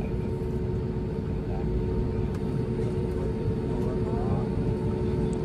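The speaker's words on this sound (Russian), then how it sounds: "буду снимать вам взлет не с окна, а вот как так полетим" Inside an airliner cabin, a constant loud engine drone and rumble fills the space, steady throughout with faint voices underneath.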